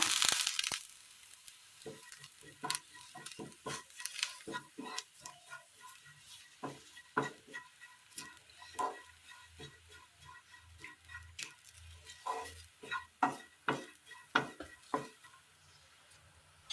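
Masala spices with meat masala, turmeric and curry leaves cooking in oil in a pan, heard as faint, close scraping and stirring ticks and soft crackles in irregular bursts, with no talking.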